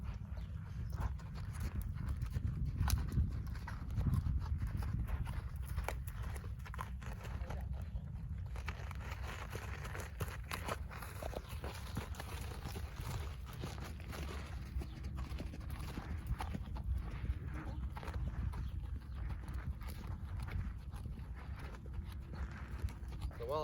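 Hooves of a ridden horse clip-clopping at a walk, a steady soft rhythm under constant low background rumble and wind, fairly distant and faint, no talk.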